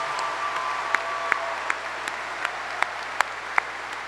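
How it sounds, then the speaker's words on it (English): Graduation ceremony audience applauding guests and class officers, a steady, moderately distant wash of clapping with a few sharper individual claps standing out. "How about a nice round of applause for all of our guests and our class officers."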